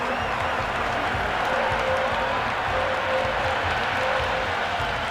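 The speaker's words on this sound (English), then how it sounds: "The crowd are loving every minute of this match." Steady roar of a stadium crowd cheering and applauding in the Cricket 26 video game during a CSK versus RCB match, a dense continuous wash of noise with no breaks.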